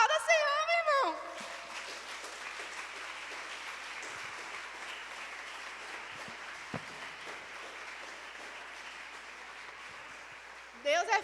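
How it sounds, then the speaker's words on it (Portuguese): A church congregation applauding for a long, steady stretch, broad and even, with brief speech just before and after. "Aplauda o Senhor, meu irmão"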